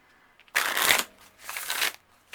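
Angel guidance oracle cards being shuffled by hand in two close, crisp bursts of riffling and sliding, separated by a brief pause, with no voices.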